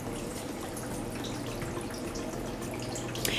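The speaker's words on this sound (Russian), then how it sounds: "Здесь водопад мой." Small indoor decorative waterfall running steadily, a continuous close trickle and splash of falling water with dripping tones, alone and even throughout.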